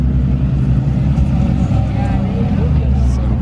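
Twin-turbo C6 Corvette making a clutch kick, a loud rough engine rumble that surges and revs over a few seconds, close and continuous.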